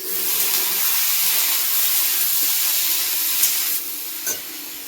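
Luchi fry in hot oil with a bright, steady sizzle and hiss close by. A few small clinks sound near the end, and there is no speech.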